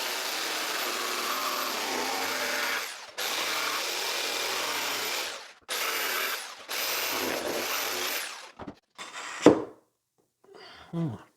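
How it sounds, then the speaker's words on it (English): Jigsaw cutting a piece of wood clamped to a workbench, a loud buzzing run of about eight seconds broken by brief pauses, then a few short bursts and scrapes as the cut finishes. "we're going to be using a jigsaw to cut this out"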